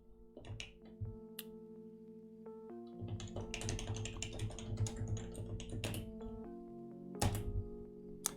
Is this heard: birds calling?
no